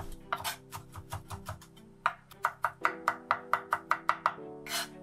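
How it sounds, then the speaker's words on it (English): A knife mincing jarred truffle slices on a cutting board, giving a steady series of sharp, close rhythmic chops that speed up into an even tapping run, with no talk. "I'm going to mince these up as finely as I can."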